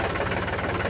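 A tractor engine runs with a low, heavy, knocking chug, steady and continuous over a short stretch, moderately quiet and without voices.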